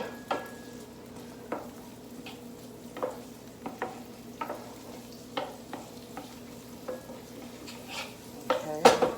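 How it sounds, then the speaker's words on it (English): Garlic and diced tomatoes sizzling in a pan, a steady frying hiss under repeated stirring scrapes and utensil taps against the pan, close and moderately loud with no talk. "I got some diced tomatoes here I'm going to add to it. I'm just going to get these cooking."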